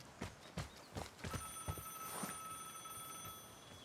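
In a multiplayer extraction shooter, a sustained electronic ring signals a duel challenge from another player. It sounds over irregular footstep-like thumps and clatter, holding steady through the second half.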